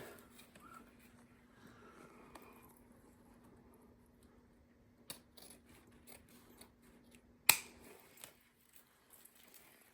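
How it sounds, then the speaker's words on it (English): Scissors cut bow ribbon at an angle with a couple of crisp, quiet snips spaced a few seconds apart, the second one louder, in an otherwise near-silent room. "And then I'm going to cut the two side pieces just up at an angle like that."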